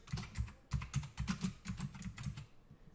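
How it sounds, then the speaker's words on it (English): Rapid, close clacking from a loud mechanical computer keyboard, keystrokes in quick irregular bursts with no voices. "Sorry for how loud my keyboard is. It's a mechanical."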